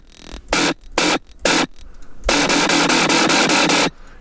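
A dubstep riddim growl bass synth patch in Serum, driven by an LFO pattern, fires three short loud bursts, then a longer stretch of rapid, stuttering, gritty growls, heard alone.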